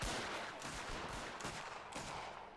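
Cannon fire at an Anglo-Zulu War reenactment, a rapid series of loud, sharp outdoor blasts with rolling echo, several reports following one another across a couple of seconds.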